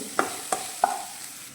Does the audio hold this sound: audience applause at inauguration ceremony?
no